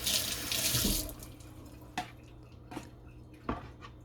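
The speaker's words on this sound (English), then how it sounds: "I just need to put like maybe 1 cup of water on this couscous right here." Water runs from a tap for about a second, close and splashy, followed by faint clinks and small knocks as a cup of water is measured out for couscous in a kitchen.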